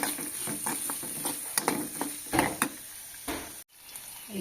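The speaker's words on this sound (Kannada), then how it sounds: "ಈಗ ಉಳ್ಳಾಗಡ್ಡಿನ ಒಂದು ಸ್ವಲ್ಪ ಹುರ್ಕೊಂತೀನಿ ನೋಡಿ." Chopped onion fries in a pan for a village-style green gram curry, a steady close sizzle with scattered stirring clatters and scrapes; the sound cuts out briefly near the end.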